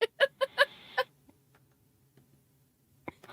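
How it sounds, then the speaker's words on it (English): Chickens clucking as they peck at corn, five loud close clucks in a quick burst, then quiet with a few soft scuffs and another cluck at the end. "Did you get excited over chickens pecking corn?"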